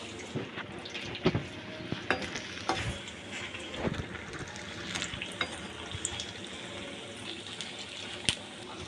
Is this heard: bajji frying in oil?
yes